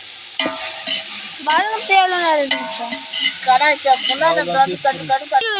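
Ginger garlic paste sizzling and being stirred for a village-style chicken biryani over a wood fire, loud and close, with scraping strokes under continuous frying hiss and a voice talking in the background.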